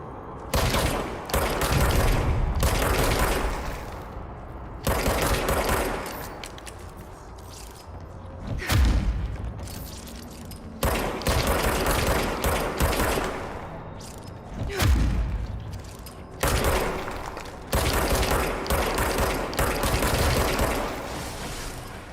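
Sustained bursts of gunfire from the video game Control pound in long loud volleys separated by brief lulls, dense and close throughout with a few heavier booms.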